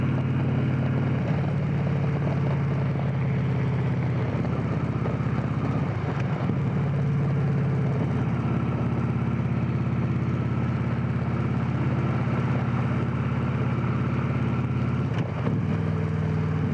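A Victory Cross Country touring motorcycle rolls over a badly rough road, its engine droning steadily and loudly with low rumbling throughout, occasional bumps and rattles breaking through the constant hum.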